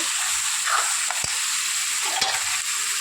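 Rice being stirred and fried in hot oil tempered with cumin, a soft steady sizzle with a few scraping stirs and sharp clicks of a utensil against the pan, close and fairly quiet.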